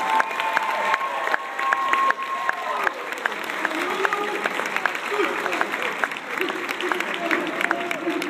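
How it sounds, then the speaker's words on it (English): An audience applauds and cheers after an acrobatic act by the Dobbins Flying Banditos, dense clapping with a few whoops running throughout, while an announcer's voice carries over it. "Let's give them one more big round of applause."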